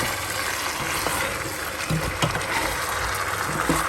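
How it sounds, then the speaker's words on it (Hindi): An okra and meat curry bubbles and sizzles in a very small pressure cooker. The hiss is steady and close, with occasional soft pops and clinks, and no voice is heard. "ये देखिए कैसा नफीस भिंडी गोश्त जो है तैयार हो रहा है।"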